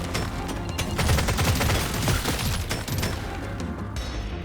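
Dense, continuous gunfire from the bug-shooting video game Deep Rock Galactic Survivor, with a gunner build firing piercing kinetic rounds into swarming insects: rapid overlapping shots and booms, loud and sustained throughout, with no talking.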